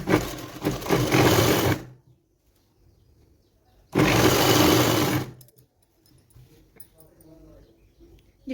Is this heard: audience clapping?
no